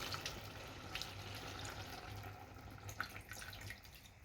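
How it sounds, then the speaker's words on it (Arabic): Water poured into a pot of soup with vegetables and pumpkin cooking on the stove, a steady soft running and splashing with a few small drips, fairly quiet and close. "غادي نزيد الماء"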